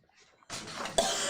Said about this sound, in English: you coughed into the microphone